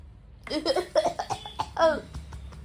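A burst of harsh, repeated coughing close to the microphone, several spasms in quick succession, with a slightly laugh-like quality.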